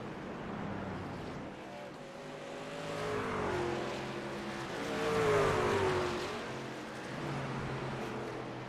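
Racing trucks' engines at Sonoma Raceway in a sim racing game, a layered roar of several trucks that swells and fades as they pass, with whining pitch sweeps, heard alone at moderate loudness.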